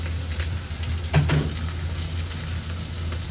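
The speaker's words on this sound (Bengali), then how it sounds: "আগেই দই দিয়েছি, তারপরে পেঁয়াজ দিলাম। এটা কষতে হবে কিছুক্ষণ" Onions with yogurt cooking in a pan, a steady low sizzle and crackle of frying with a brief scrape of stirring partway through, close and continuous with no talk.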